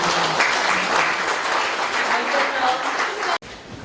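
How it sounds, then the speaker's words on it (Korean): Audience applause at the Midwest Family Night 2018 ceremony honoring a new honorary doctorate recipient; dense, steady clapping fills the room for over three seconds before cutting off sharply. "우리 정근보 박사님 앞으로 모실 때 큰 박수로 모시겠습니다."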